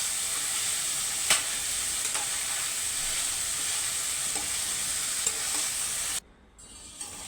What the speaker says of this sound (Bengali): আমি ওদিকে একটু সামান্য মিক্স করে দিচ্ছি সবজিগুলো।